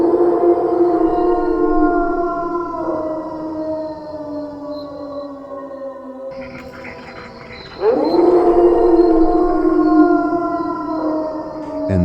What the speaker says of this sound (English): the howl came, like 3 wolves at once, low and flat, over and over